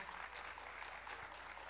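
Brief applause from a crowd at a festival tribute to marimba players, a short burst of many hands clapping at a moderate distance.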